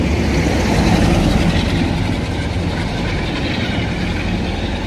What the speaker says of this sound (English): that was the charter train heading up to London.